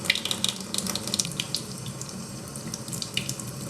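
A tap runs steadily into a sink while makeup brushes are squeezed and rinsed under the stream, with close splashing and uneven watery spatters over the constant flow.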